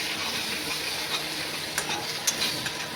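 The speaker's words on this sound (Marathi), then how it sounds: "हे आपले लसूण आहे, लसूण टाकूया त्याच्यामध्ये" Garlic added to a hot frying pan for pasta, sizzling steadily with stirring scrapes and a few sharp pops, close and continuous with no talking.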